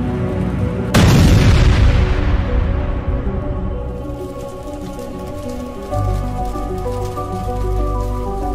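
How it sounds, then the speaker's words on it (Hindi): A loud cartoon explosion erupts as a car crashes into a bus: a sudden heavy boom followed by a long rumbling, crackling decay with debris-like patter over music. "उस गाड़ी में टकरा जाती है जिससे एक जोर का धमाका होता है।"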